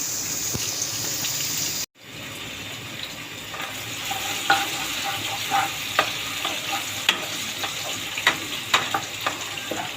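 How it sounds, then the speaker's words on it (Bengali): Tomatoes and onions sizzle in a pan for a chicken bhuna, with a sharp cut in the sound early on, then a steady fry punctuated by repeated scraping clinks of the spoon stirring. "আমি টমেটো আর পেঁয়াজটা ভালো মতো কষিয়ে নিব"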